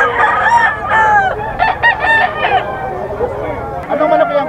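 A rooster crows loudly and close by at a pet market in Bocaue, Philippines, a drawn-out harmonic call, followed by a second shorter crow near the end.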